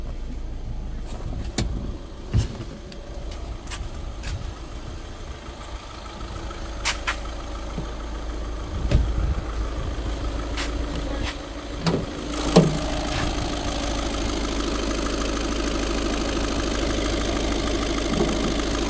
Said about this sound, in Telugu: నేను ఇంజన్ స్టార్ట్ చేస్తున్నాను. సింగిల్ సెల్ఫ్ స్టార్ట్ అయింది.